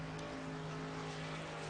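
A race car at Pocono Raceway rolls onto pit road, giving a steady, droning engine hum with a constant pitch, heard alone at moderate level.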